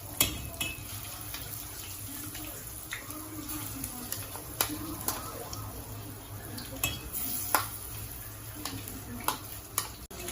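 Ground egusi goes into hot frying oil in a pot and is stirred, giving a soft continuous sizzle broken by sharp clinks and scrapes of a utensil against the pot.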